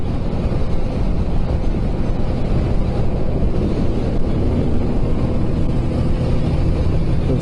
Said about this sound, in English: you're riding with me right now down the Gold Coast Highway, well, the M1 motorway